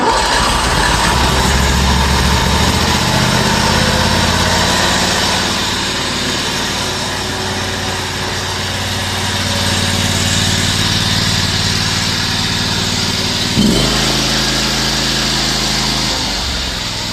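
An Exmark zero-turn mower engine, left sitting about five years and refuelled with fresh gas, runs rich on choke with a loud, close, steady small-engine drone that dips and surges, briefly stuttering before settling, with no talk.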